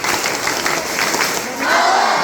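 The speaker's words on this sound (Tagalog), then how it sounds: "Palakpakan naman po natin yung mga bata." An audience at a thanksgiving party cheers and claps for children from an orphanage, a brief burst of crowd noise with scattered shouts swelling slightly toward the end.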